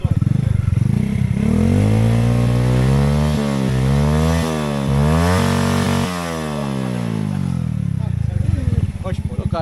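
A small motorcycle engine revs up and down repeatedly on an Athens street, loud and close, its buzzing pitch rising and falling with each throttle twist.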